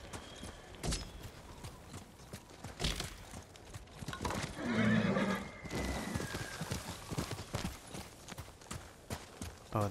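A horse neighs loudly partway through in the video game Ghost of Tsushima, a drawn-out whinny over steady hoof clip-clops and game ambience.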